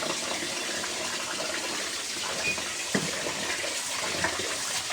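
Steady gush of running water, as from a tap, while rice is rinsed before cooking in a home kitchen, with a few faint clinks and splashes over a continuous hiss and no talking.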